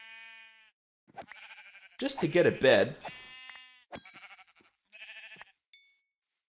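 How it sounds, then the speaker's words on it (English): Blocky sheep in a Minecraft Age of Engineering modpack bleat in several short, clear, wavering calls spaced across the moment, alone between bursts while someone talks over them. "we'll kill these sheep."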